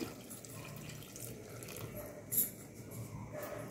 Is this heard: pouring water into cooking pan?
yes